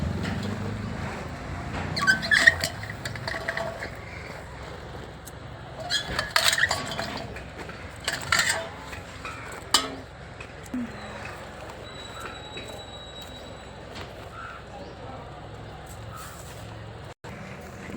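Raw tamarind pods washed by hand in a bowl, with intermittent clinks and knocks against the vessel and sloshing water, under faint background noise, up close.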